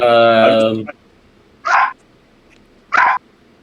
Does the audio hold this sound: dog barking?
yes